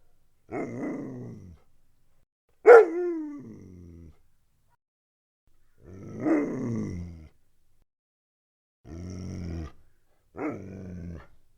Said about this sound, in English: Next up, we have dog sounds.